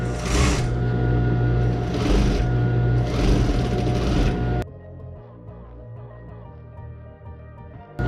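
An industrial sewing machine stitches a PPE gown in a loud, continuous whir that ends abruptly, leaving quiet room noise with a faint hum.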